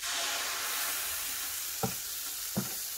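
Kadapa karam dosa batter, made with millets, sizzles loudly and steadily on a hot pan, a continuous close hiss with two brief soft knocks near the end.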